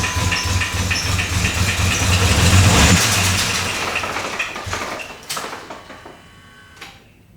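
Jeep engine with a running problem, idling with a loud, rough mechanical rumble that builds, then tapers off and cuts out toward the end, leaving a few faint clicks.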